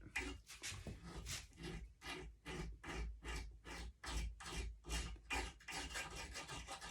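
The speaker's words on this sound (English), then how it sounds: "You can still do it with a razor blade. I'm doing it very lightly. Just cleans that edge up real nice and gets a nice even edge on it." A razor blade scrapes lightly along the edge of a camo wrap on a Bushmen long curve bow, giving a steady run of rhythmic rasping strokes, close and moderately quiet.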